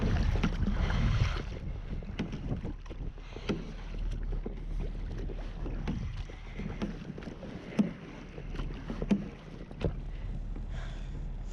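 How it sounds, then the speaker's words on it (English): A small rowing boat is worked with oars on open water in windy weather, with faint splashes and creaks against steady wind rumble, and a couple of sharper knocks near the end. "I know I'm rowing the wrong way, but it's easier if I see what I'm doing."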